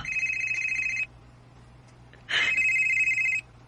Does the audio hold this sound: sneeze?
no